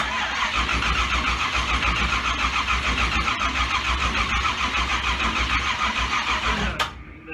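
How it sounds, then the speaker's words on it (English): A race car engine cranks slowly on the starter without firing, a steady, loud, labored churn with even pulsing that stops abruptly near the end. "This thing is cranking too slow."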